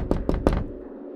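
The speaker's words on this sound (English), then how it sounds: "At that moment, there was a knock on the front door." Three firm knocks on a front door, evenly spaced and close, each a sharp rap with a short resonant decay, followed by a quiet tail.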